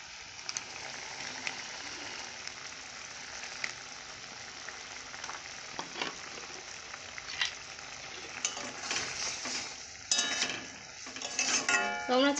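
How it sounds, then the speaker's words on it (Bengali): Fried okra sizzling in a pan of curry as it is stirred, a quiet steady crackle with scattered scraping clinks from the spoon and a busier burst of stirring near the end. "ভেজে রাখা ঢেঁড়সগুলো দেব।"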